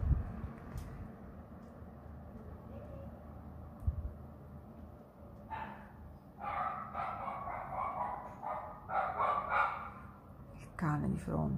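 A dog across the street barks in several short bursts of yips and barks, quiet at first and then more frequent in the second half, heard at a moderate distance over a low indoor background.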